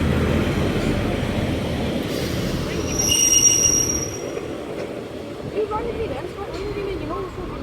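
A train reversing at Sheffield station, its wheels squealing loudly in sustained high tones over a rumbling rail noise, with a voice talking partway through.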